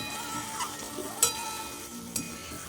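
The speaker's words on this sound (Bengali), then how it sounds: "এখন আমি চিকেনটা দিয়ে দিচ্ছি" Chicken sizzles and fries in a hot pan of spices during home cooking, a steady close crackle with a few louder stirring scrapes and spits.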